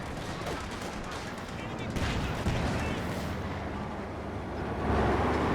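Gunfire, explosions and tank fire rumble through a Company of Heroes 2 World War II battle, a dense, continuous din of shots and blasts at moderate loudness.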